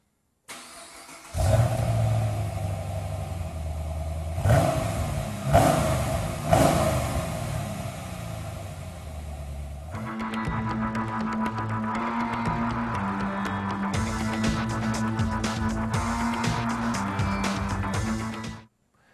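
A Chevy Camaro on its stock exhaust idles, then revs up sharply several times, dropping back each time before settling into a steady, throaty exhaust rumble, close by.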